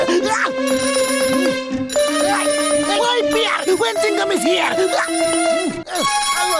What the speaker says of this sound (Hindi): फोन फोन फोन, अरे किस किस फोन को उठाऊंगा?